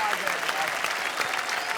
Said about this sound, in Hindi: तो भाई आम आदमी के लिए एक बार जोरदार तालियां